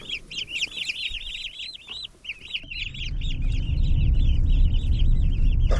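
Dense, lively chirping from a group of turkey poults, rapid overlapping peeps close by, with a low rumbling background growing louder partway through.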